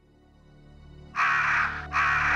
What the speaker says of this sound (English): Oh my god, these birds.